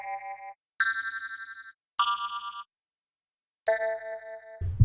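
Synthesized tones played for a Secret of Mana remake, bright harmonic notes in pulsing bursts separated by silences, slightly distorted, ending with a short low thump.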